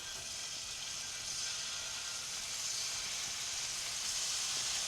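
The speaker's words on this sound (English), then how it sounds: "Start adding your shrimp to the hot pan." Shrimp hitting a hot pan with olive oil, a steady, even sizzle of bright hiss that holds constant and grows slightly louder, close by with no talking.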